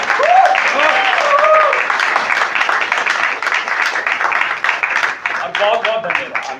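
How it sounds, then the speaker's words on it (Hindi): A theatre audience claps after a play, a sustained crowd applause running the whole time while a voice speaks over it. "तो एक बार ऑडियंस के लिए आपकी तरफ से तालियां"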